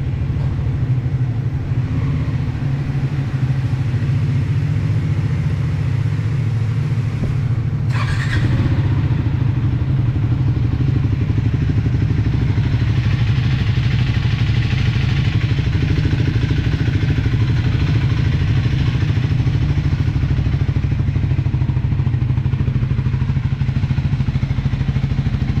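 A Triumph Scrambler 400 X motorcycle engine runs at a steady, loud, close idle rumble with a sharp mechanical clatter partway through, and no voices.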